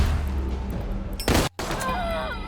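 A single precision-strike gunshot in Wasteland 3, a sharp loud burst followed by a brief dropout of sound, then ringing tonal effects trailing off.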